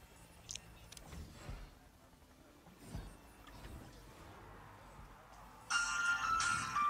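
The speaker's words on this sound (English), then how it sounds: "Okay, I swear I turned that phone down." A phone rings loudly near the end, in bright, repeated electronic tones, heard over quiet background sounds from the Evil Genius 2 game.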